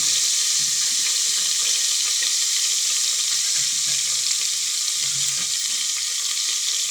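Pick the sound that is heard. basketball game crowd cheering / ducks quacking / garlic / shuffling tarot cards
garlic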